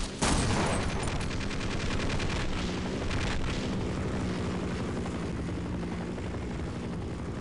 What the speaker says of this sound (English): that helicopter is your arch nemesis for the time being